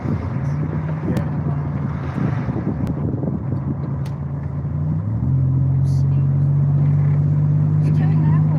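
Dodge Charger passing on a street, a low engine rumble that grows steadier and louder toward the end, with wind buffeting and people talking over it.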